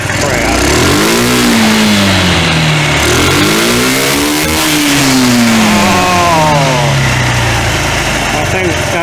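A 1993 Yamaha Riva 125 scooter engine revs up and down in several loud, close sweeps after a carburetor replacement, its pitch climbing and falling repeatedly with no talk over it.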